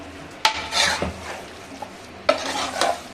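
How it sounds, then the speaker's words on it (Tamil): A ladle scrapes and stirs through a thick meat curry in a pot in two short bursts, with a faint sizzle underneath. "கரண்டியை வச்சு நல்லா கிண்டி விட்டுருவோம்"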